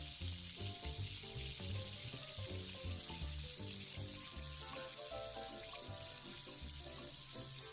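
Egg sizzling and frying steadily in a hot pan for a heart-shaped breakfast omelette, a continuous crackling hiss with occasional light clinks, no talking.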